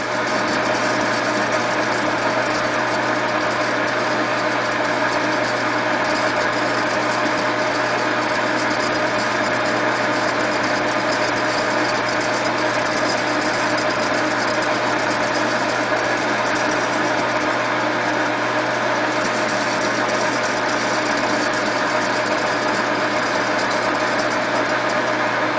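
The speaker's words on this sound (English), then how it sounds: "Slowly turn your cross feed in, making a cut into the shaft." A lathe runs with its cross feed slowly advancing to cut a keyway into a shaft, giving a continuous, even mechanical drone with a low hum and no pauses or voices.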